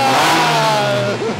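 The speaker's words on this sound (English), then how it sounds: "Oh yeah, go on, rev it up." A Porsche 986 Boxster S with a performance exhaust and bypass valve revs up loudly and close, its engine tone rising and then falling off in a brief sustained burst.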